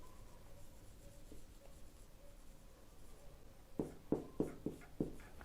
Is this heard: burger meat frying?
no